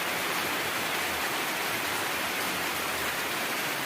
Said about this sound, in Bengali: মুষলধারে বৃষ্টি পড়তেছে,